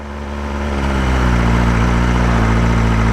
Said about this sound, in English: There goes that crazy engine startup, high revving idle thing.